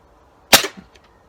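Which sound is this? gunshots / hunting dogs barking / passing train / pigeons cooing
gunshots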